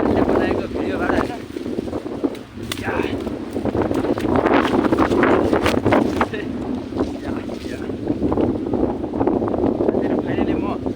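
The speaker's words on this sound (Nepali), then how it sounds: "यहाँ हावा धेरै लागिरहेछ" Strong outdoor wind buffets the microphone in a steady low roar while a person climbs a tree, with a voice talking over the rumble throughout.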